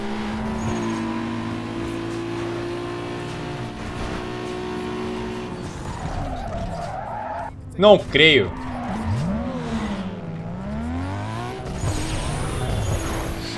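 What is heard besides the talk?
car skidding and spinning out, Need for Speed Underground 2 video game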